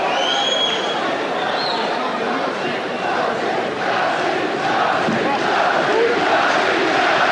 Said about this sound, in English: he gets a fantastic reception here from the crowd who seem glad to see him back